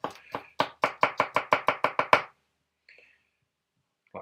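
Crushed garlic cloves chopped with a knife on a cutting board, about ten quick, sharp, evenly spaced knocks in a steady rhythm, close and clear, then a brief pause with faint handling noises.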